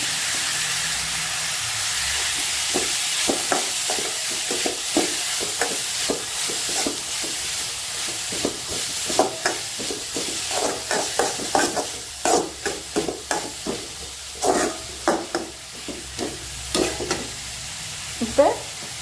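Oil sizzles steadily in a pan while curry leaves go in for a potato masala bonda base, with a hissing, spattering surge and then repeated sharp scraping strokes of a spatula stirring close by, growing more rhythmic toward the end.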